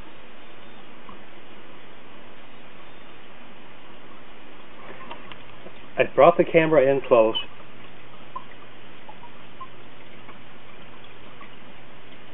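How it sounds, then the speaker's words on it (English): A gentle, continuous trickle of water from an AeroFalls aquarium waterfall on a planted wall, a soft steady hiss that runs throughout while a person briefly speaks up close. "All you hear is a gentle waterfall-like sound."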